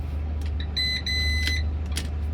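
A Renault Twingo with an electrical earth fault sounds a warning beep, a few high electronic tones in a short on-off pattern over a steady low hum inside the car.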